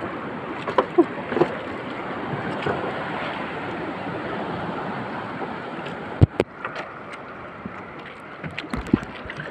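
Large ocean waves surge around a small fishing boat, steady rushing water and wind noise punctuated by several sharp splashes and knocks against the hull, close and fairly loud.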